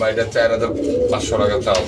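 A pair of large black pigeons coo in repeated soft, throaty phrases, close by, with a faint background murmur.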